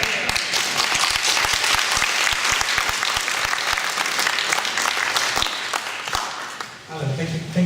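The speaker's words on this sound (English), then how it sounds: "the applause shows a sense of feeling for the centre" An audience at a community question-time meeting in Whitton and Heathfield claps loudly and steadily for several seconds, then the clapping fades out.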